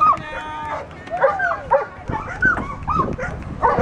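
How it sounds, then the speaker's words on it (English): An older dog at an outdoor dog-jumping event barks and whimpers in short, repeated yips close by, while people talk nearby. "This is his dog."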